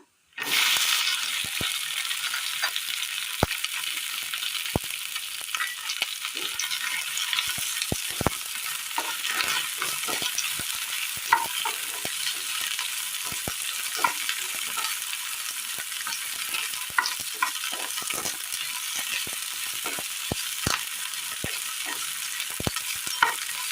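Okra frying in oil in a pan, a dense continuous sizzle punctuated by frequent sharp clicks and scrapes of a utensil stirring, close and loud throughout.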